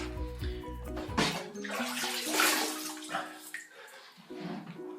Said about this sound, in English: I've just wet my face